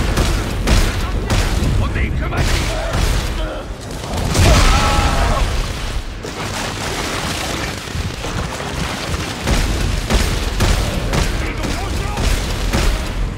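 Gunfire in Dead Space 3, dense bursts of shots and booming blasts packed together over a loud, continuous game soundscape, with a voice talking excitedly throughout.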